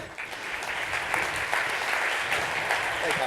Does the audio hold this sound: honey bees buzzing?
no